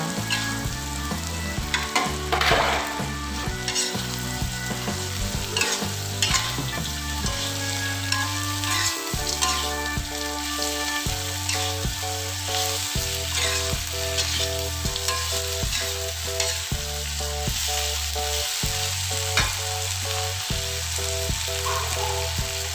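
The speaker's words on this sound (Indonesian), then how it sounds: "Lalu masukkan tempe dan terinya, aduk-aduk sampai tercampur rata." Tempeh and anchovies stir-fry in a spice paste in a pan, with a continuous sizzle and repeated scraping of a spatula over about twenty seconds, heard under background music without talking.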